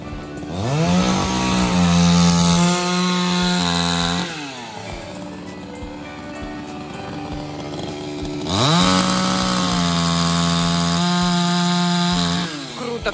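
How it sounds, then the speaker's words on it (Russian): A petrol chainsaw roars loudly while cutting wood, revving high for a few seconds, dropping to a rough idle, then revving and cutting again. "Конечно, бензопила как по маслу"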